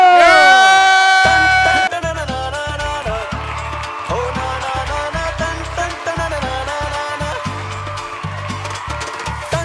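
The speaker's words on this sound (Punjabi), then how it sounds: "ਉਹਦੇ ਲਈ ਭਰਪੂਰ ਤਾੜੀਆਂ।" A studio audience at an Eid special stage show applauds and cheers in a dense, loud burst of clapping and noise. A bright ringing musical chime opens it.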